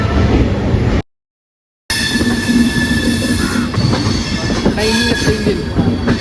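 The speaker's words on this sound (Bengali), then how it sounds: "ট্রেন প্ল্যাটফর্ম ছেড়ে" The Jan Shatabdi Express (12055) pulls out of platform nine at New Delhi, a loud close rumble of carriages and wheels with high metallic squeals. The sound drops out for about a second before the rolling noise resumes.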